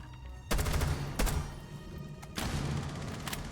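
Rainbow 6 gunfire crackles in loud bursts, one short volley, a brief second, then a longer sustained stretch of rapid shots close by, with no talking over it.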